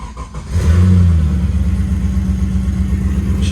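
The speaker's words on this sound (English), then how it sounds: "let's give it a bit of a cold start" Cold start of an LS-swapped Nissan Patrol engine: a quick crank, then the V8 catches with a loud flare of revs and settles into a deep, steady idle, close by.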